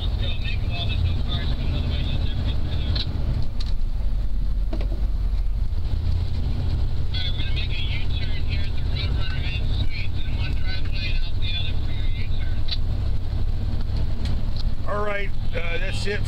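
An RV making a U-turn, its steady low engine and road rumble running throughout at a constant level, with wind noise and people talking over it.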